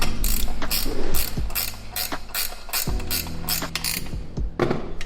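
Bike assembly bolts are tightened with a 10mm ratchet wrench, giving rapid, close metallic clicking in several quick runs separated by short pauses, with no talk.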